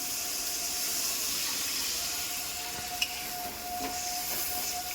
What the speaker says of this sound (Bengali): এইবারে ওর মধ্যে আমি একটুখানি জল দিয়ে দিলাম আলুটা সেদ্ধ হওয়ার জন্যে।